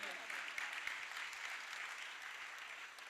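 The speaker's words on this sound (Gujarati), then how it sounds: "તો એ સ્ટુડન્ટ્સને આપણે ફરી એક વખત પ્રોત્સાહિત કરીએ અને જોરદાર તાળીઓથી વધાવીએ" Sustained applause from a crowd at a school event, steady and fairly soft, heard from a distance.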